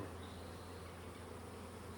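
A quiet, steady drone of honey bees around a hive being readied for queen rearing carries on unbroken throughout.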